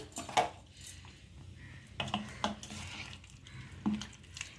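A spoon stirs lemon pickle mixed with roasted mustard-fenugreek powder in oil, giving faint scattered clinks and scrapes against the container in an otherwise quiet room.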